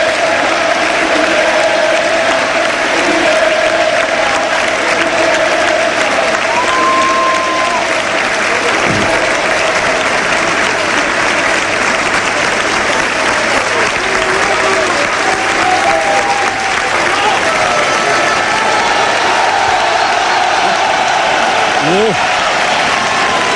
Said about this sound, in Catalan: Que l'ovació d'Iniesta és descomunal